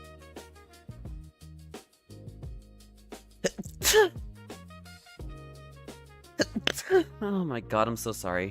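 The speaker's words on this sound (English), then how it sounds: "I'm sorry for the sneezes." A person sneezes into a microphone during a Nightreign online game lobby chat: a couple of abrupt, loud bursts amid ongoing speech, with an apologetic voice between them.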